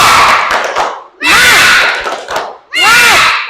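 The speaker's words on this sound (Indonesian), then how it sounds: "mari kita tepuk semangat bersama-sama. 3, 2, 1, tepuk semangat!" A class of children in an Indonesian school doing a spirit clap chant together: loud bursts of rhythmic group clapping broken by shouted chanting voices, close and energetic, repeating in three sharp waves.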